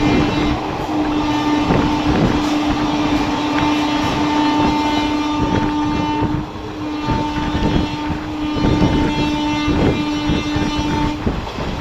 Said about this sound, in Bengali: ট্রেন ঢুকলো পাঁশকুড়া জংশন